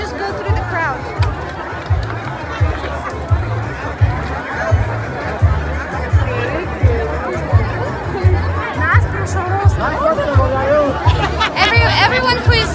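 Dense crowd chatter fills a busy Gypsy bride market in Bulgaria, many voices overlapping in a steady close hubbub with occasional laughter and footsteps.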